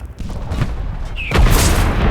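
Heavy booms from an artillery strike in the shooter game Enlisted, a muffled distant thump followed by a louder, close rumbling blast that lingers, with no talk over it.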